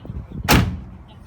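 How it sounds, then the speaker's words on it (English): The door of a converted camper van is shut, a single loud, close slam with a brief rattle afterward. "when you shut this door and you want to come inside,"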